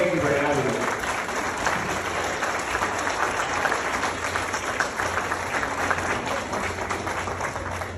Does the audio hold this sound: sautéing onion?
no